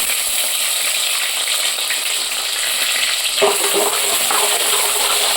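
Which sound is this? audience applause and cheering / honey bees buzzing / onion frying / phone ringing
onion frying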